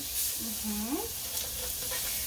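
Frozen butter being stirred in a pot, giving a soft, brief scraping with a faint sizzle under a low steady background hiss.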